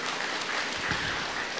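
Steady applause from an audience at a Vietnamese Buddhist dharma talk, a dense continuous clatter of many hands clapping, with no voices over it.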